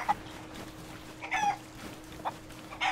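Chickens clucking in the pirate game Sea of Thieves on a beach, a few short scattered clucks over a steady low game-ambience hum, moderately near with no talk.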